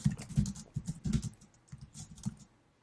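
Fingers type on a computer keyboard in quick bursts of soft, close clicks, then trail off into quiet.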